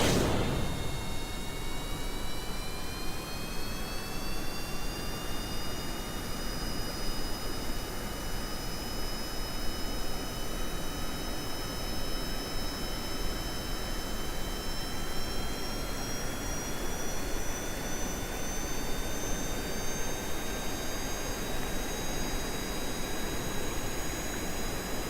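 Rocket engines roar in Kerbal Space Program, a loud continuous jet-like blast with rising whining tones that climb steadily as thrust holds for a long stretch, with no talking.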